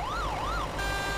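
An ambulance siren from the Euro Truck Simulator 2 video game wails in rising and falling sweeps, then cuts to a steady tone, loud and close for just over a second, with no speech.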